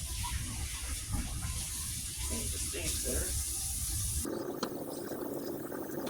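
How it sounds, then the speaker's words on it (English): Water runs from a tap over the roots of Roma tomato seedlings, a steady gushing stream that shifts in tone partway through, with someone talking over it. "If you let the water run over the roots, for whatever reason, they pop right apart."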